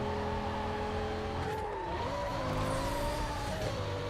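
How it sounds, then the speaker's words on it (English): A Lamborghini Gallardo races in Need for Speed Carbon, its engine droning loud and steady with pitch that dips and climbs through gear changes and cornering, with faint tire noise and no talk. "Oh, love the sounds of the Gallardo though."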